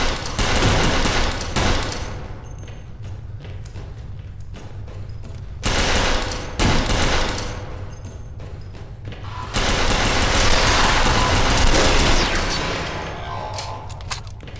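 Loud, rapid bursts of video game gunfire and explosions in several intense volleys separated by brief lulls, dense and close.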